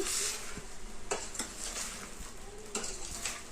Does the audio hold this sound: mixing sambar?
yes